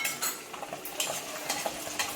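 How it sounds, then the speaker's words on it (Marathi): Garlic being sautéed for a pickle is stirred in a pan, a spoon scraping and clinking against the metal in quick repeated strokes over a soft sizzle. "मी आता लसूण थोडासा परतून घेते"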